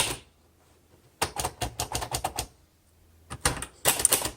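A 1961 Royal Futura 800 manual typewriter typed up close: quick, crisp clusters of key strikes in two bursts separated by a quiet pause, with no voices.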